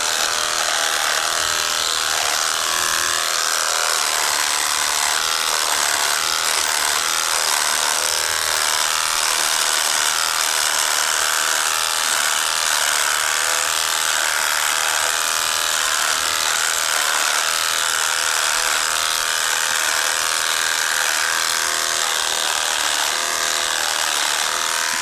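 Steady, harsh buzzing of an electric hair clipper runs continuously and loudly throughout, close up, with no pauses.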